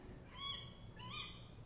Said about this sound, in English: You hear that? Is that an owl or is that a bird?